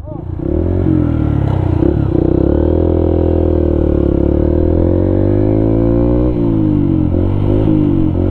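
A motorcycle with an engine problem runs loud and close for several seconds, a steady, rough drone with shifting pitch and slight wavering as it labors along a road toward an airport.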